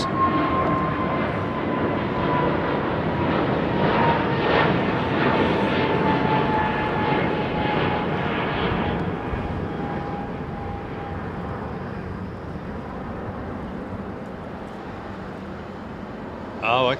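Turkish Airlines Boeing 777 performing a touch and go at London Heathrow, its jet engines giving a steady broad roar that slowly fades, with a voice talking over it.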